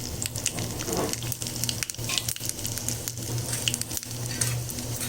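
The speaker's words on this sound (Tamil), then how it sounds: "இப்போ இந்த கடுகு சோம்பு பொரியுது" Mustard seeds and fennel seeds splutter in hot oil for a sambar tempering, a loud continuous sizzle with dense crackling pops and bursts, close up and unaccompanied by speech.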